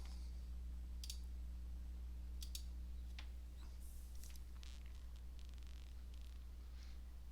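Light, crisp mouse clicks on a computer scattered irregularly across a quiet room, some in quick pairs, close and faint over a steady low electrical hum.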